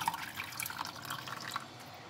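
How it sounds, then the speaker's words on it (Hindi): Water dripping and trickling from blanched spinach being squeezed lightly by hand over a bowl or sink, a steady run of close, soft splashy drips with no talking. "बस हल्का सा इसका पानी निकालना है, ज़्यादा नहीं इसको मतलब दबाना"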